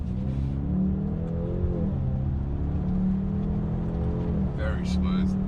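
A Jaguar car accelerating during a performance driving tour in Melbourne, with a steady, smooth engine hum that rises gently in pitch from inside the cabin, fairly loud throughout with brief voices near the end.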